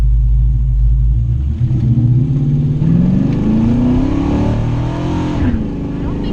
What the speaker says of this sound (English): I'll just roll into it because the old big block makes too much torque.